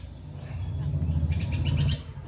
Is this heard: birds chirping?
yes